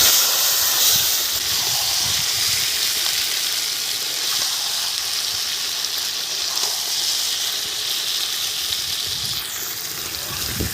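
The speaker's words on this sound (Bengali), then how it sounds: "দিয়ে এখন আমি মাংস তুলে দিচ্ছি।" Goat meat sizzles loudly in hot oil spiced with bay leaf, cardamom, cloves and cinnamon, giving a dense, continuous hiss that holds steady for the whole stretch with faint crackles underneath.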